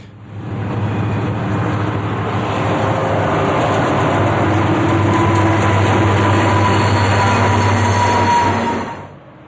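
A Union Pacific or BNSF EMD SD90MAC six-motor, 6,000-horsepower four-stroke diesel locomotive train in Feather River Canyon in 1996 gives a steady, loud, low rumble that swells and holds before dropping away at the end.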